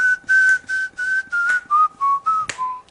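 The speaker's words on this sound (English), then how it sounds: "could you whistle in the mic" A person whistles a short melody close to the microphone, about ten clear sustained notes in a steady rhythm that drift slowly downward in pitch, with a brief sharp click near the end.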